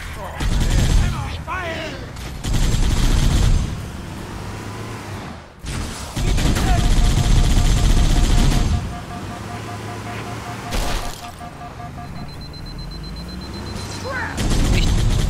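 Gunfire in the Halo video game erupts in loud, dense bursts separated by quieter stretches, with mechanical clatter and a pause mid-way before the shooting resumes.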